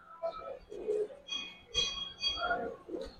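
Giribaz and colored pigeons at a pigeon farm give soft, repeated coos in short rounded phrases, close and fairly quiet, with a faint steady hum behind.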